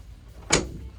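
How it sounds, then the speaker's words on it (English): A single short thud and scrape as a door on an old Chevette is forced open, heard alone. "Gotta crawl through here, get our door open because my door handles don't work."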